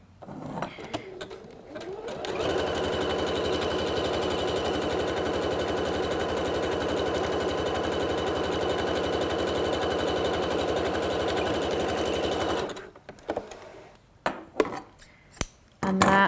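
A sewing machine runs steadily for about ten seconds, stitching a 3-step zigzag on stretch fabric. The motor hum is close and continuous, followed by a few clicks and taps as it stops.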